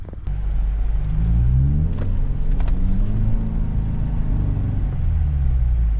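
A 400 HP Subaru WRX climbs a snowy mountain road in winter, its engine a steady, heavy, close rumble with rising and falling revs and faint clanks from the car.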